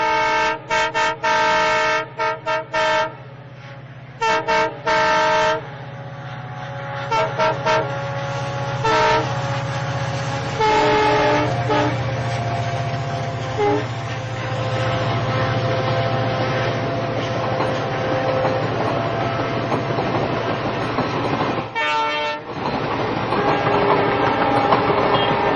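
Train running along a railway line through green farmland near Kanyakumari, sounding a long, loud horn in repeated blasts, with steady rolling rumble continuing between and after the blasts.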